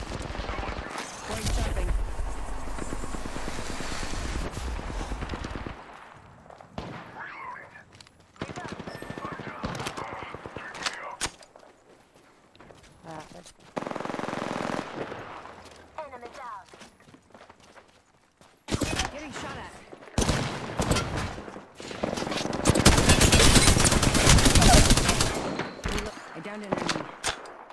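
Bursts of rapid automatic gunfire and single shots ring out in a first-person shooter match, broken by quieter stretches with footsteps. A player speaks briefly over the action.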